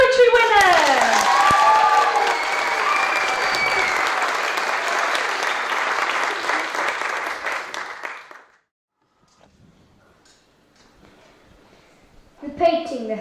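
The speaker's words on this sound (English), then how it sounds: "Please give a big cheer for our Year 5 and 6 poetry winners!" A school audience cheers and claps for Year 5 and 6 poetry winners, loud applause with children's shouts for about eight seconds, then near silence before a voice begins speaking.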